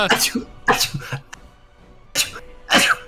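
A series of sharp, explosive sneezes up close, several in a row with brief pauses between them.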